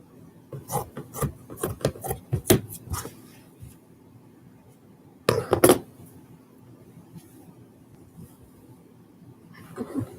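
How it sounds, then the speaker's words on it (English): Scissors cutting up the side of folded shirt fabric for a memory quilt, a run of quick dry rasping snips in close succession, a pause, then another short burst of cutting, close and fairly quiet. "you can just run your scissors up the side"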